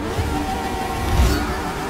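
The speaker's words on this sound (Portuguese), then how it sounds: "Gosta do som da Ferrari FXX?" Ferrari FXX K engine in Forza Motorsport 6, a loud, steady, low engine drone that swells briefly as if revving under acceleration.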